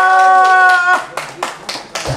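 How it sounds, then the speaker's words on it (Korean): A few scattered, distinct claps ring out at a year-end pop music concert evening, coming right after a sustained sung or musical tone and sounding sparse and close. "우리 임원님들에게 박수 한번 주세요."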